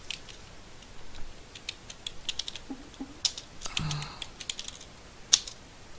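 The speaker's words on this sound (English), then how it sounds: "I'm typing it in now." Computer keys clatter in quick irregular taps while a player enters a name for a League of Legends Dominion match, close and moderately loud, with a few faint background sounds mixed in.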